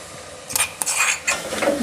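A spoon mixes green chilli thecha into softened tomatoes in oil, with three or four distinct clinks and scrapes against the pan over a faint sizzle, close by.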